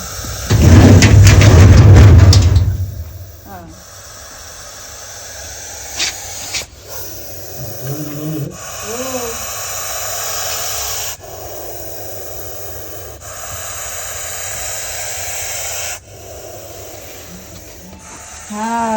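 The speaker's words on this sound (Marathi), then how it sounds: "हा असतो एक घोणस सापाचा आवाज." A Russell's viper (ghonas snake) gives several long, steady hisses near dawn, each lasting a few seconds with short pauses between them. A loud burst of noise and rustling comes first, and faint background sounds carry on underneath.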